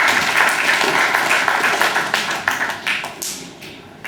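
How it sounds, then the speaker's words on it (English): Audience applause at a graduation ceremony: a sustained round of clapping that starts strong, gradually thins out and fades toward the end, with no talk over it. "And I think he deserves a round of applause."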